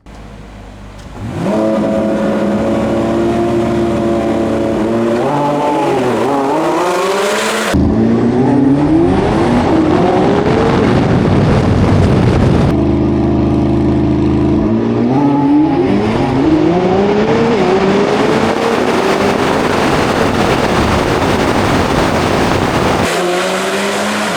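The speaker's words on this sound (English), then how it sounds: "I'll load up the Lambo and we'll do some races." A Corvette C8 ZR1 and a Lamborghini Revuelto drag race, loud engine roar climbing in pitch through repeated gear shifts over about twenty seconds, with a brief lull and another hard acceleration run close by.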